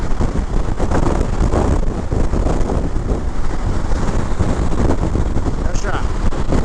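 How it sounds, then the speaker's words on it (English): Strong wind buffets the microphone outdoors at an exposed high spot, a steady loud roaring rumble throughout the whole stretch, with a voice faintly underneath. "It is windy up here. Woo! I am getting whipped all around."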